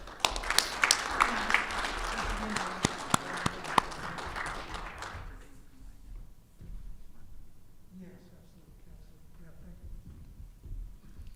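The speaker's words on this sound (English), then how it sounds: "Please join me in a round of applause." Audience at a Marine Corps logistics awards ceremony applauding, with scattered sharp claps over a busy crowd for about five seconds before it fades into quiet room murmur.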